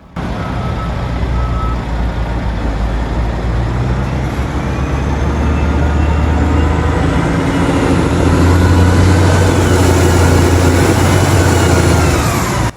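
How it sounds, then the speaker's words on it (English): A CAT 990 wheel loader loading coal onto lorries rumbles with a deep, loud, steady engine drone, revving up toward the end, with reversing beeps and other truck noise nearby. "The loader begins its work, engine rumbling with a deep tone as it approaches the stockpile."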